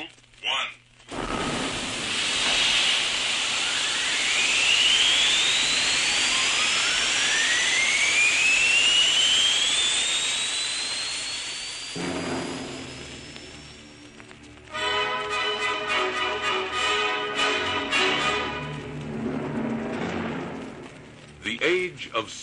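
A rocket engine fires at launch after a countdown. A loud, roaring rush builds with rising whistling tones, swells and then fades away. Broken, rumbling bursts follow, and a voice is heard briefly at the start.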